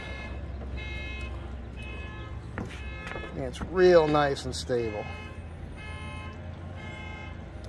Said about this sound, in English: Bad news is there's a car alarm going off